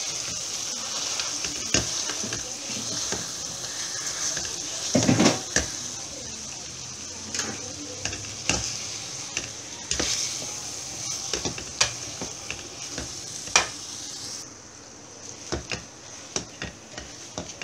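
Whole boiled potatoes mashed together in a pan of sizzling food, a steady frying hiss under repeated thumping and scraping knocks from the masher, close and fairly loud.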